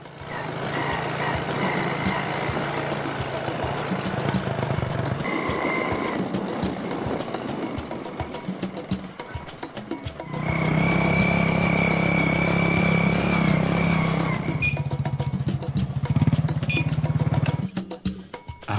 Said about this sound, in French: nous nous dirigeons à moto